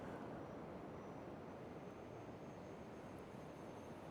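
An E-flite Valiant 1.3 m RC plane flies over a beach with its flaps up, a steady continuous broadband buzz of the electric motor and wind holding at an even level throughout, with no talk.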